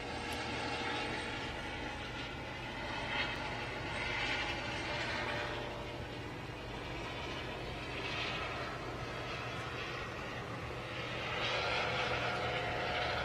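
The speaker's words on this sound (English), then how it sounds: "you can hear the helicopter overhead" A helicopter flies overhead during the NASA SpaceX Crew-4 astronaut launch coverage near pad 39A, producing a steady, loud rotor-and-engine roar with slow swells in intensity and no voices.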